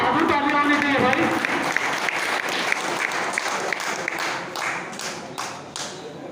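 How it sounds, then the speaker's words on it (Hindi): An audience at a high-flying pigeon club prize distribution in Lucknow breaks into sustained applause, dense clapping continuing throughout and thinning slightly toward the end, with some voices underneath. "बहादुर कबूतर के लिए बहादुर तालियां होनी चाहिए"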